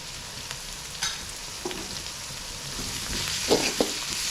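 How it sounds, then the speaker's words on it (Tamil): Sautéed onions with ginger garlic paste sizzle in a pan for snail gravy, a constant close crackle with occasional clinks and scrapes of a spoon stirring, the last stirs louder. "வெங்காயம் வதங்கிருச்சு அது கூட வந்து இஞ்சி பூண்டு பேஸ்ட் சேர்த்துக்கிறேன்"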